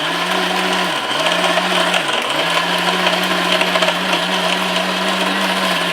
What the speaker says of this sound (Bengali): এরকম একটা ব্লেন্ডার থাকলে কিন্তু পাটায় বাটার কষ্টটা আপনার করতে হবে না